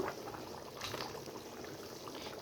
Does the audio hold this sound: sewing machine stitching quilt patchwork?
no